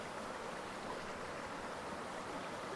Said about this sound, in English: So focusing on the waterfall.